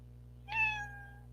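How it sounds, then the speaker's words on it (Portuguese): A single cat meow sound effect played back in a children's programming app, a short rising and falling tonal cry over a faint steady hum. "eu posso fazer com que ele toque o som do gatinho."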